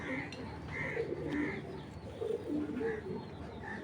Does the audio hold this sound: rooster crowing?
no